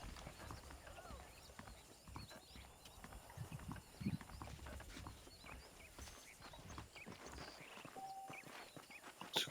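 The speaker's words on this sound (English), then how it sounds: "The horses are saddled up over here." Saddled horses walk in Red Dead Redemption, their hooves clip-clopping in a steady, fairly close rhythm over a busy layer of background game sound, with voices talking in the mix.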